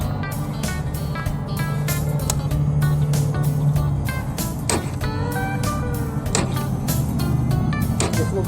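A KTM Duke motorcycle at a gas station grinds through repeated rapid starter clicks and whirs, a close mechanical chatter over a low hum as it struggles to fire.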